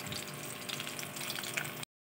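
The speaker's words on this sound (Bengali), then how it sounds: "মাছ ভাজা হচ্ছে," Fish frying in hot oil gives a close, steady crackling sizzle that cuts off abruptly after a couple of seconds.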